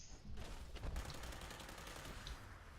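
Carbine gunfire from the video game Fallout 76 crackles in a dense rapid burst, loud and close, then trails into a steady roar of background game noise.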